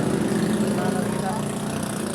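Motorcycle engines run steadily nearby, a continuous buzzing drone with no breaks, while voices talk over them.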